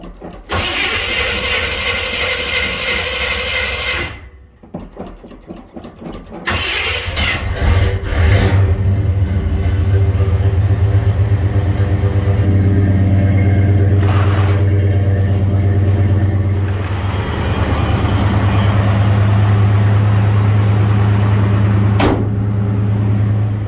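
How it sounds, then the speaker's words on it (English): A carbureted Chevrolet C-20 engine cranks, catches and fires up, then settles into a steady, loud running idle close by, with a brief gap of cranking before it starts. "Pumps a little bit of gas into the intake to get her fired up."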